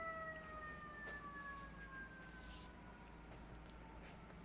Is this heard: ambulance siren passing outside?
yes